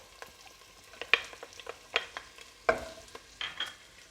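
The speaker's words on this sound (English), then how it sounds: "Listen to that sizzle." Onion and garlic sizzle softly in a pan with scattered crackles and pops, quiet and close, interrupted by a few clinks of stirring.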